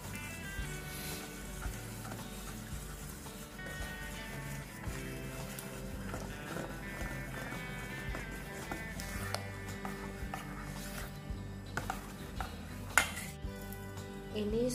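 A spoon clinks and scrapes against a bowl while stirring a milk tart mixture, with scattered metallic taps and a soft, steady background hum.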